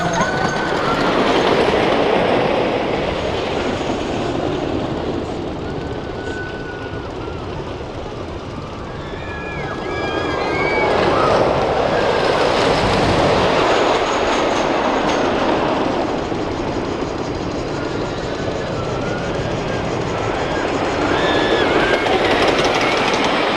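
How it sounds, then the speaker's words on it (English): Woodstock Express, a blue wooden family roller coaster at Kings Dominion's Planet Snoopy, rumbles and clatters continuously along its track with rattling wheels and faint squeals, loud and sustained, building in waves. "the second roller coaster in Planet Snoopy is Woodstock Express, which is this blue wooden roller coaster"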